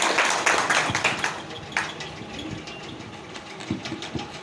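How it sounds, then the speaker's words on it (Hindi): An audience at a Bihar political gathering applauds to welcome a guest named Neeraj. The clapping is dense and loud at first, then thins into scattered, sparser claps. "जोरदार तालियों से स्वागत करें नीरज का।"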